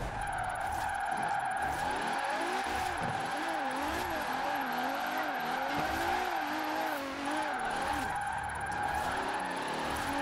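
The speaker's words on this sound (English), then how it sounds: "You expect me to believe that this is supposed to be a good drift car." A twitchy, high-powered mid-engined car drifts in Forza Horizon 4, its engine droning steadily while tires squeal in wavering, sustained screeches throughout, loud and close with no pauses.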